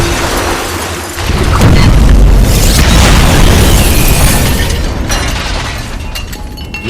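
A helicopter smashes into a building and explodes in an action film, a loud broadband boom erupting after a quieter opening second and rumbling on for several seconds before slowly fading.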